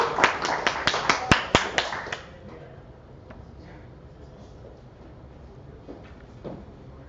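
A meetup audience of developers breaks into a short burst of scattered, sharp claps for the presenters. It lasts about two seconds, then drops away to a low room murmur.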